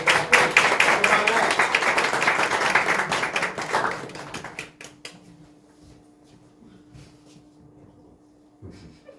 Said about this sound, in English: If you could welcome them with some applause.